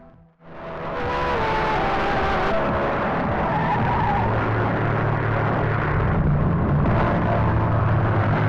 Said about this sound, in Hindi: मेरी गाड़ी आ गई।